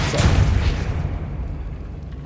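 The Depulso spell in Hogwarts Legacy lands as a single deep, heavy boom that hits at once and then rumbles away over about two seconds.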